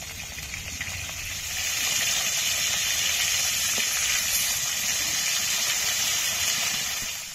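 Pieces of rui fish fry in hot oil with a continuous, even hiss that swells slightly after the first second and stays close and steady until the end; no voices.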